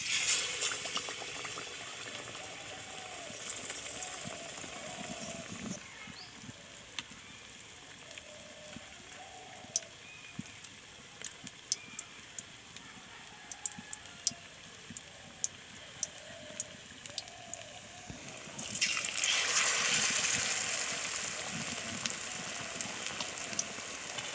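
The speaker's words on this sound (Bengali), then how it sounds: "তেলটাও খুব ভালোভাবে গরম হয়ে গিয়েছে, এবার চপগুলো ভেজে নিচ্ছি।" Banana blossom chops made with gram flour batter deep-frying in hot oil, a soft, continuous bubbling and crackling close by, swelling louder toward the end.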